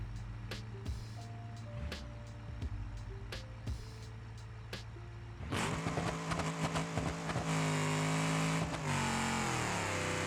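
Car in the BeamNG driving game accelerating hard on nitrous, a steady engine drone with beeps first, then a sudden louder surge of rising roar and whine around halfway through that continues to the end.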